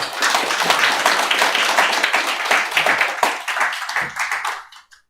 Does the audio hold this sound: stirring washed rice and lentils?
no